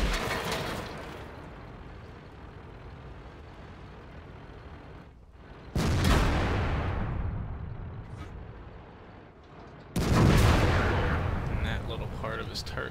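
Heavy tank cannon shots in World of Tanks from an IS-7, two loud booming blasts a few seconds apart over a constant rumbling engine drone.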